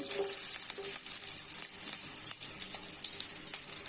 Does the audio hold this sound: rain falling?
no